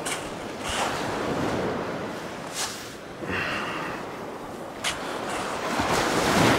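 Ocean surf washing onto a sandy beach where sand fleas are dug, a steady windy wash with several waves breaking in repeated swells, fairly close and continuous with no talking.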